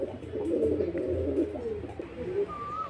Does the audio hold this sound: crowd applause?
no